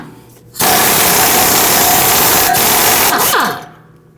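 A loud pneumatic power tool with a 16mm socket removes a nut while replacing outer tie rods on a 2006-2009 Audi S4, whirring continuously for about three seconds, starting abruptly and winding down at the end.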